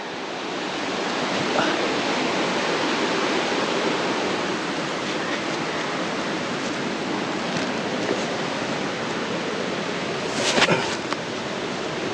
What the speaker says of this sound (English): I can see the creek down there. I've been hearing it for a while